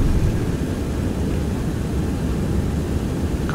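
A Boeing 727-100 jet rolling for takeoff in the X-Plane 11 flight simulator, a steady, loud engine roar with a broad hiss that holds evenly throughout.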